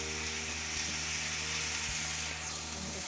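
Onions sizzling in a pan for chicken keema, a steady close hiss of frying with a couple of soft stirring knocks and no voices.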